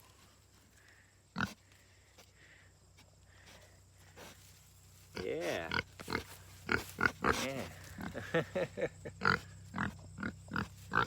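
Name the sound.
pig grunting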